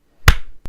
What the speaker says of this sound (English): So shall we do a clap and then we can start?